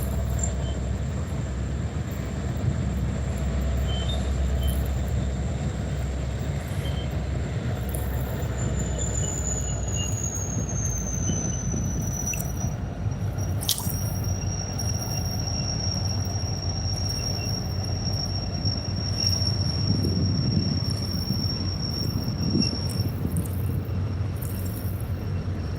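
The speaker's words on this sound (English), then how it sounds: "Loud trains, folks." A train rumbles past a freshwater carp-fishing spot with a loud, continuous low roar, and a high wheel squeal rises and holds for several seconds. Insects chirp faintly in the background.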